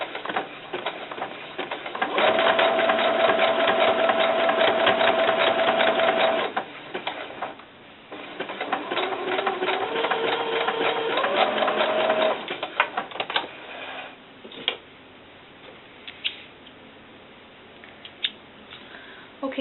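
A sewing machine stitches a sleeve seam on a doll's cover-up, running in two long steady whirring bursts with a short pause between, close and loud, then trailing off into quieter handling noises.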